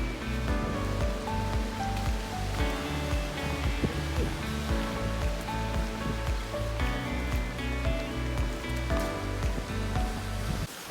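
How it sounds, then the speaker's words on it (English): Strong wind gusts roar near the summit of North Hancock mountain in New Hampshire's White Mountains, a loud, continuous broadband rush that buffets steadily for the whole stretch without letup. "The wind has really picked up"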